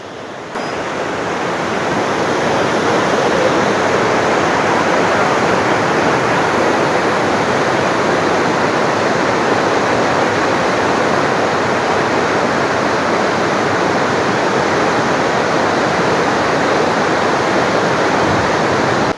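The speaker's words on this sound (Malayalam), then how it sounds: "ഭയങ്കര സൗണ്ട് ഈ വെള്ളത്തിൻ്റെ" Loud, steady roar of rushing water at Courtallam waterfall, a dense broadband wash that swells up over the first couple of seconds and then holds constant and close, with no talk over it.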